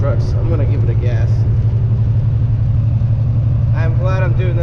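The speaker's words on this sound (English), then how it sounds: "Trying to pass a few trucks. I'm gonna give it a gas." A semi truck's engine drones low and steady as it gives gas to pass other trucks on snowy Chicago roads, with a voice talking over the rumble at times.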